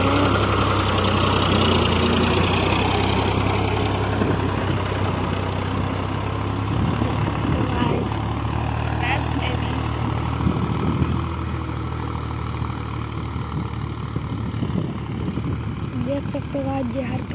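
A Ford 3600 tractor engine runs steadily at a low idle on farmland, a continuous mid-low rumble that stays fairly loud throughout, with people talking over it.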